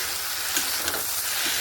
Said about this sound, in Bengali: এদিকে আলু আর ঢেঁড়সটা ভাজা হয়ে গেছে, এটা আমি নামিয়ে নেব